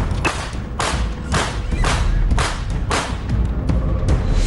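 A man firing a gun in public in Jhansi, a series of sharp, loud bangs repeating at a steady, irregular pace throughout, heavy and booming with no speech over them.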